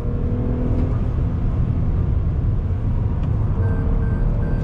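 Engine of a 2021 Toyota Highlander XSE AWD pulling under throttle, a steady loud low rumble and road roar filling the whole stretch, with faint tonal beeps near the end.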